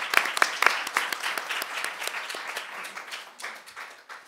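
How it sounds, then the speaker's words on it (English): An audience at a data journalism conference session applauds after a set of presentations, steady clapping that starts strong and gradually thins and fades over a few seconds. "I think everyone deserves a big round of applause."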